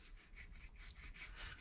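Rhythmic back-and-forth scratching of 180-grit sandpaper on a small brass pen-turning tube, about seven quick strokes, close and fairly quiet.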